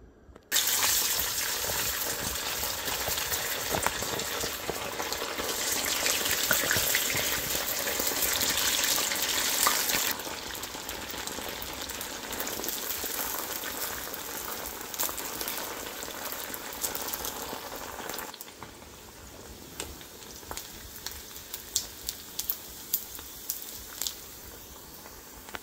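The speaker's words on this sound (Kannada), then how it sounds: "ಇವಾಗ ಫ್ರೈ ಮಾಡೋದು ತೋರಿಸ್ತೀನಿ." Idli pieces deep-frying in hot oil, a dense steady sizzle and bubbling that runs loud for about ten seconds, then softens to a quieter crackle with scattered pops.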